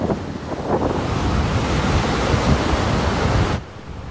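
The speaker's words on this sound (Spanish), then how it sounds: "El mar estaba revuelto, pero estaba precioso. Hacía bastante viento" Rough sea waves crash and roar steadily at the shore while strong wind buffets the microphone, a loud, dense wash of noise that drops away abruptly near the end.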